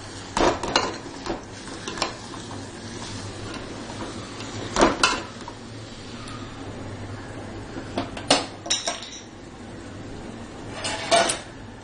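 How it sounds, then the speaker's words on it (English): Chicken is stirred with masala in a pan, with intermittent scraping and clinking of a utensil against the metal over a faint, low sizzle. "Now to this I will add this masala. And again mix it well."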